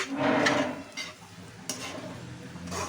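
Onion flowers being stirred with cumin powder in a frying pan for an onion flower and hilsa roe fry, giving a continuous scraping and soft sizzle up close, with a couple of sharper utensil scrapes.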